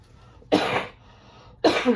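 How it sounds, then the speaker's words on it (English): Two sharp, close coughs, separated by a short quiet pause. "Forgive me for my cough"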